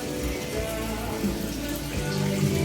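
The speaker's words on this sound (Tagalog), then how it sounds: "Meron naman kaming gripo dito." Tap water runs from a faucet in a home kitchen while catfish sinigang is being cooked, producing a steady, continuous rushing hiss close by with no break, and no talking.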